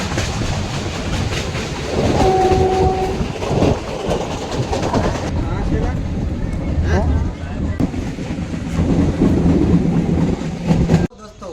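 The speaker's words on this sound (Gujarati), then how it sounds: "તમે જોઈ રહ્યા છો આપણી પાછળ છે ટ્રેન વાય ડીએમ ફોર" A YDM4 diesel train at Junagadh railway station rumbles close by in rain, with steady rolling noise, a brief horn-like tone and wind buffeting the microphone throughout.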